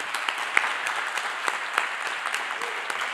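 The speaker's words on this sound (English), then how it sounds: "just give our panelists another round of applause" Audience applause for a panel of speakers at the close of a conference session, a modest steady patter of claps at moderate volume with a few sharper individual claps standing out.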